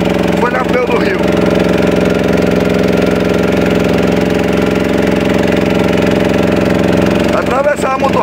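Two outboard motors drive a canoe across a wide Amazon river, a loud steady droning hum with dense harmonic throb running throughout, with brief voice-like sounds near the start and end.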